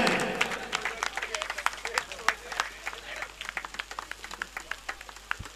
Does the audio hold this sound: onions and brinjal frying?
no